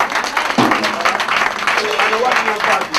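A church congregation applauds and claims the Lord during a worship service, with dense, steady clapping and overlapping voices that stay loud and close throughout.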